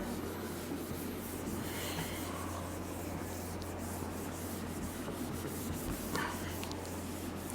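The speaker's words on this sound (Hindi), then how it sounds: "चलिए हम ऊपर वाले डिफिनेशन रब कर रहे हैं।" A written definition is rubbed off a classroom board with continuous close, soft scrubbing strokes over a low steady hum, and no one speaks.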